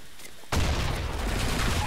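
Gunfire in the Blackshot first-person shooter game, a quiet moment broken abruptly by a loud, sustained burst of rapid shots and booms that continues to the end.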